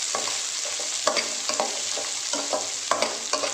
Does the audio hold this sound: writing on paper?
no